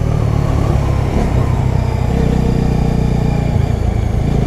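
Bajaj Dominar 250 motorcycle accelerating: a loud, continuous mid-pitched engine note with rising revs and gear changes, close and unbroken throughout.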